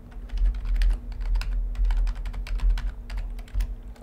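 Rapid, uneven keystrokes clatter on a computer keyboard, close and steady for several seconds over a faint electrical hum, with no voices.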